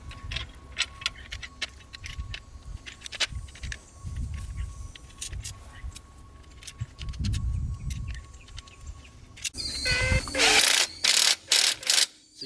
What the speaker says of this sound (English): So you want to tighten up the 6 bolts that hold the mounting plate to the clamp-on kit.